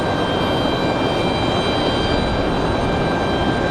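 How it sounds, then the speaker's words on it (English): Mesa Airlines United Express airliner arriving from Houston at Raleigh Durham airport, a steady loud engine roar with a high whine running throughout, close and unbroken. "Here comes that Mesa Airlines from Houston"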